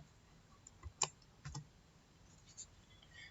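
Faint, sparse keystrokes on a computer keyboard, a few soft isolated clicks spread across a quiet room.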